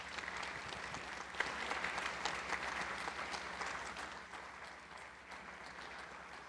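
Audience applause at the close of the 2014 Helen Keller Lecture, a steady, moderately distant wash of clapping that fills the room and slowly tapers off without any talk.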